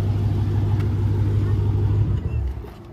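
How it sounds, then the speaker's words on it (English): A Dodge Hellcat engine rumbles at a steady idle, loud and close, then winds down and cuts off near the end as it is shut off. "Let me shut this damn car."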